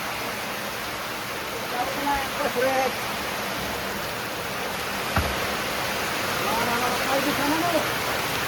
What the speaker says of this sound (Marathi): पाऊस आहे काय बघा